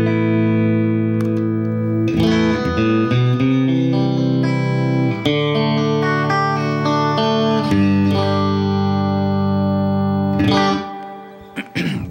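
An electric guitar played through an 85-watt Fender Twin tube amp with twin 12-inch speakers rings out clean and loud, sustained chords and single notes carrying steadily for about ten seconds before fading, with no talking.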